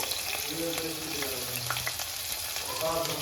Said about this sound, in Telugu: మనకి ఉల్లిపాయలు పచ్చిమిర్చి ఫ్రై అయిపోయింది కదా